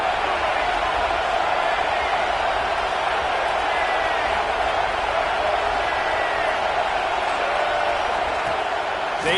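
Stadium crowd in College Football 26 roaring steadily from start to finish, a dense, loud wash of cheering with no breaks, a home crowd rising to back its defense during a Washington State–UCLA game.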